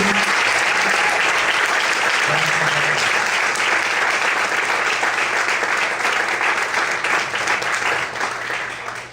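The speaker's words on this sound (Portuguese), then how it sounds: "Vamos aplaudir o Senhor esta noite" Church congregation applauding during an evening service: loud, dense, sustained clapping from many people for about nine seconds, easing slightly at the end.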